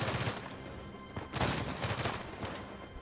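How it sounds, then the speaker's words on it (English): Rapid blind-fire gunfire from cover in Uncharted 4, a dense, continuous burst of loud shots with cracks and booms that swell and ebb over a few seconds, with no voices. "So this can really dominate when you're blind firing."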